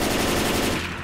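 Rapid gunfire in the Left 4 Dead 2 video game, fired at clown zombies in a Crash Bandicoot mod, a dense continuous burst of loud automatic shots that tails off slightly at the end, with no talk.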